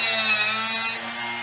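A Drill Doctor 750X sharpener grinds the split point of a drill bit, a close, loud, high-pitched abrasive whine with a steady motor hum beneath, easing slightly toward the end.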